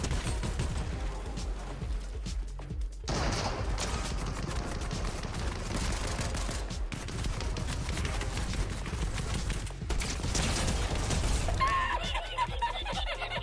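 Drum shotgun fire in the video game Fortnite: rapid, dense bursts of gunfire fill the whole stretch, loud and continuous, with short gaps and other game effects mixed in.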